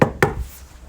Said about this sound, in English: At the moment, there is a knock on the door.